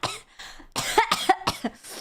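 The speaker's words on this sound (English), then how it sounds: "If you're gonna make me yell at you, I'm going to cough." Several harsh coughs in quick succession from a woman recovering from an illness, close to the microphone, with short gaps between bursts and no talking.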